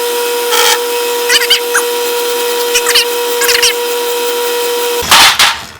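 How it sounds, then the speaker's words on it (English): A lathe cutting a small chamfer on a new synchronizer screw for Mikuni round-slide pumper carburetors, a steady whining hum with brief scraping bursts of cutting, ending in louder clattering. "Now a little chamfer."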